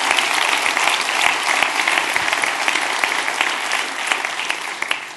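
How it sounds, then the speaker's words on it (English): Loud, sustained applause from a conference audience for the day's speakers, dense clapping filling the room evenly with no pauses. "If we could have one more round of applause for all of our speakers today"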